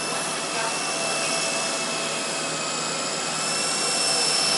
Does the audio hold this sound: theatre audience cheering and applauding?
no